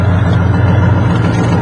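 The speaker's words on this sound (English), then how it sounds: "This is the exhaust." A van engine with a freshly sorted carburetor runs steadily at idle, a continuous low rumbling exhaust drone, close and loud with no pauses or misfires.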